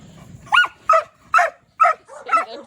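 Several dogs bark indoors near a litter of puppies, giving five sharp, evenly spaced barks at close range with a faint low murmur beneath.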